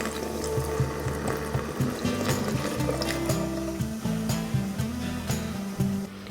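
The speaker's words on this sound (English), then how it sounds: "It makes the most amazing fizzing noise when you do this" Drain cleaner fizzing down a household drain, a continuous crackling bubbly hiss with a steady musical bed underneath and no speech.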